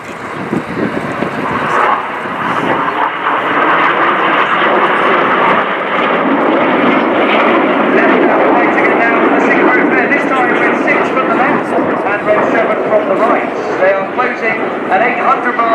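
RAF Red Arrows jets flying a vertical race display at an air show, a loud sustained roaring engine rush that swells and holds, with an announcer talking over it.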